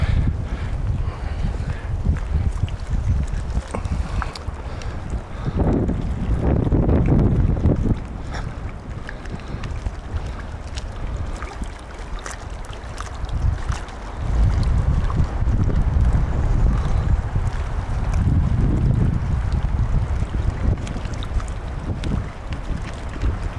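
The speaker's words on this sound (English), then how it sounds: "It's windy here" Steady wind buffets the microphone in heavy low rumbling gusts outdoors at Grace Lake, swelling and easing over the whole stretch, with faint water sounds beneath.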